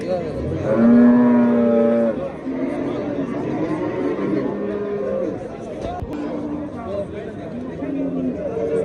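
A cow gives a long, loud moo near the start, then other cattle low faintly amid a crowd of people chattering in the background.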